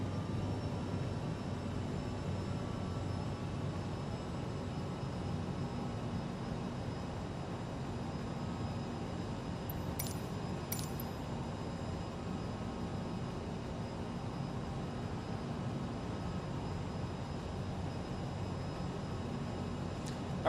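Steady airliner engine drone in a flight simulator on approach over LaGuardia, a constant even roar with no change in level for twenty seconds, plus two faint brief high beeps midway.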